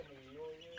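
Chickens on a farm raising several thousand birds give a brief, close burst of clucking with a tonal, throaty cackle, lasting under a second.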